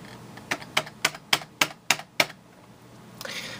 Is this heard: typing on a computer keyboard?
yes